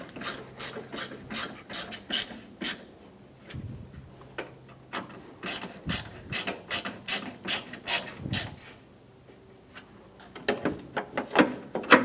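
Ratchet clicking in repeated bursts as bolts on a 1997-2001 Honda CR-V bumper cover are snugged down, close and fairly loud, with short pauses between strokes and no talking.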